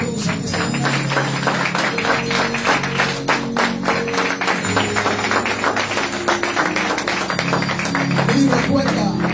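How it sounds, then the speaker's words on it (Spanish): A congregation at a Sunday-morning church service claps together in sustained applause, a dense continuous patter running the whole time over background music and a voice. "Dele otro aplauso a Dios en esta mañana."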